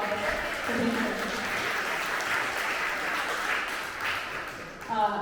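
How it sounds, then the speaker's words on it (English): An audience at the Ink and Clay 45th anniversary awards ceremony applauds in a sustained, dense wash of clapping and cheering, loud and even throughout, with a voice beginning to speak right at the end. "One big cheer for this wonderful event today."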